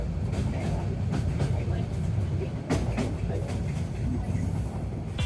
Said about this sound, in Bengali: আশেপাশে সব কিছু চুপচাপ, জাস্ট ট্রেনের ঝকঝক ঝকঝক আওয়াজ হইতেছিল